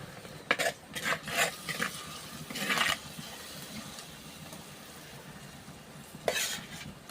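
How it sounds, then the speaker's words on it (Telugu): Onions frying with turmeric in a pan while making Maggi, with a low sizzle beneath several bursts of scraping, stirring strokes, then a quieter stretch before one more stir. "ఉల్లిపాయలు ఉడికింది పసుపు వేస్తున్నాను"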